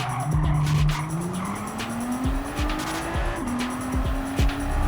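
Nissan GT-R in Gran Turismo 7 at the Nürburgring, its engine droning and climbing in pitch while tyres squeal and skid under hard braking, with brief thumps over a steady, close, loud roar.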